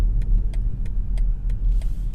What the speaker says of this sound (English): here we are going over rough roads, and you can barely feel it, even with these ultra high performance tires